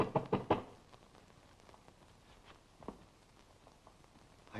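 Three quick firm knocks on a door at the start, followed by quieter scattered footsteps and faint thumps in a still room, from a 1933 film.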